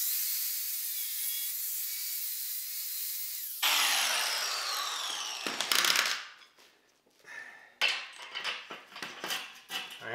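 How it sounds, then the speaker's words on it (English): An angle grinder with its guard removed cuts a groove into a bolt head during a power washer and wheelbarrow repair, first a steady high whine, then bursts of harsh grinding contact that stop and restart in short, loud, close passes. "You just take a grinder. And you just put a grinder groove right down the center."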